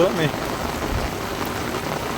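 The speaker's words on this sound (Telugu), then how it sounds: "అడవిలో పడ్డ నీళ్ళంతా ఈ విధంగా పారుకుంటూ వస్తాయండి" Heavy rain pours steadily through a forest, runoff water streaming along the ground like a small channel, a constant dense hiss from start to finish with a brief voice-like sound near the beginning.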